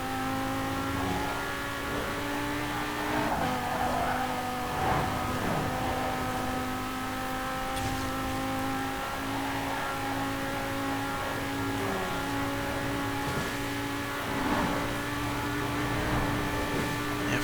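A 1988 BMW M5 tuned past 1200 horsepower, driven in Forza Horizon 4, holds a sustained, close engine drone at high revs, with faint rumbles and knocks beneath it.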